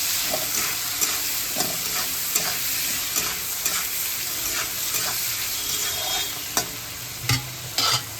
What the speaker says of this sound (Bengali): পরিমাণ মতন লবণ দিয়ে ভালো করে একটু নাড়িয়ে দিই